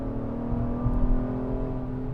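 A 2022 Acura MDX SUV accelerates hard from about 55 mph, its engine giving a steady, loud, close drone with a slight swell midway and no voices.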